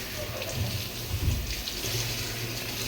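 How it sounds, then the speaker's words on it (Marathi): Spinach leaves are washed under a running kitchen tap, giving a steady close splash of water with a faint voice underneath. "एकदम स्वच्छ धुवून घ्यायची अशी"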